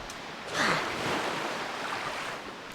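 A boat sails across the open ocean in The Legend of Zelda: The Wind Waker HD, with a steady rush of waves and wind that swells briefly near the start before settling into a constant wash.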